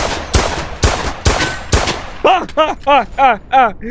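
Pistol gunfire in a Roblox VR game: four loud, sharp shots spaced about half a second apart, followed by a run of quick pulsing synthetic chirps.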